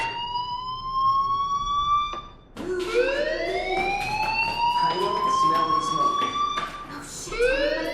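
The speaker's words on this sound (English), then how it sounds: "do you hear that fire alarm? That means you should be outside." A fire alarm in the video game Life is Strange wails in repeated rising sweeps, loud and insistent, with a brief break partway through and a voice speaking over it.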